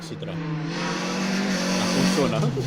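A Citroen rally car tears past at full speed on a rally stage, its loud engine note rising and falling sharply as it passes close by, with little else audible.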